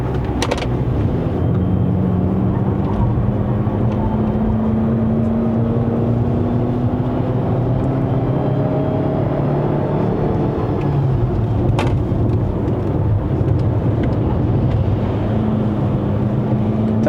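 A GAC GS3 Emzoom SUV's 1.5-litre turbocharged four-cylinder engine drones steadily from inside the vehicle driving uphill to Genting, Malaysia, pitch rising with acceleration, then dropping and climbing again as gears shift.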